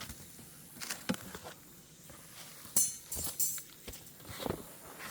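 Asian honeybees buzz faintly around a hive, with soft scattered taps and brief louder bursts as insects pass near.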